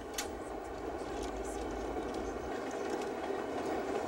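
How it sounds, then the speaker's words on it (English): A passenger train runs on rails across Canada, a steady low rumble with faint clickety-clack, heard from on board at constant moderate loudness throughout, with no talk. "This is a train for people in a hurry."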